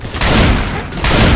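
Two loud bursts of gunfire in Left 4 Dead 2, each a sustained volley split by a short lull, close and unaccompanied by speech.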